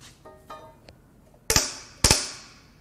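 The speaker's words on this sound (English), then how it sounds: "That's the sound of the pulley moving on the corrosion." Crank pulley on a supercharged 5.0-litre Jaguar Land Rover AJ V8 shifting on corroded metal during a teardown, starting with faint scrapes and ticks and ending in two loud, sharp metallic cracks with brief ringing tails, close up.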